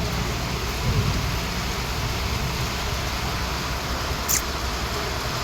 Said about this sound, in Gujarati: ફૂલ વરસાદ ચાલુ છે ત્યાં જોઈ લેવો આ ગાજ ને વીજ સાથે